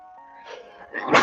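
A single loud sneeze bursts out near the microphone in a pub, right after a brief murmur of voice.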